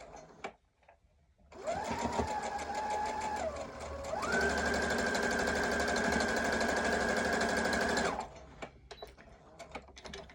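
Sewing machine stitching fabric along a drawn line, a close whirring hum in two runs: a shorter burst, a brief slowdown, then a longer steady stretch before it stops, with faint clicks around it.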